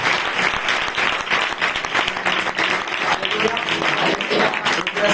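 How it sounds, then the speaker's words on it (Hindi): A church congregation applauds loudly together, continuous dense clapping from many hands with voices mixed in underneath, steady for the full stretch. "एक बार जोरदार ताली बजाकर परमेश्वर का धन्यवाद करें"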